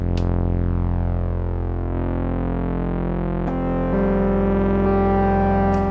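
A sustained Oberheim synthesizer tone with gritty analog distortion holds steady, its harmonics shifting slightly as the sound thickens partway through.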